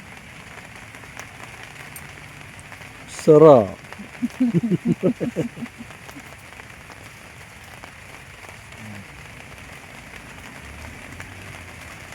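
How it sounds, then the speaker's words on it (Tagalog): Light drizzle falls around a campsite where a minivan is parked, making a steady, soft patter throughout. A person briefly speaks and makes a short burst of sounds partway through. "Naririnig nyo ba yung patak ng ulan?"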